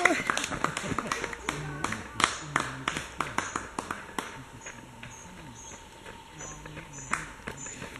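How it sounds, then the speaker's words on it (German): Scattered, uneven clapping from a handful of spectators at the Römerkanal fun run in Kreuzweingarten, with sharp individual claps that thin out over time. A voice talks intermittently over the clapping. "Applaus."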